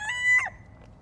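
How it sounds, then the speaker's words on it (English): A young chick gives one short, high, wavering peep, close and fairly loud, followed by quiet. "She's a Summer chicken"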